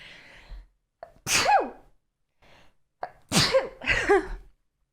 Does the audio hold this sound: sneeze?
yes